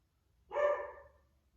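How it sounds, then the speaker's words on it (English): One short, muffled bark from a dog some distance away, alone against near silence. "there's a dog barking outside"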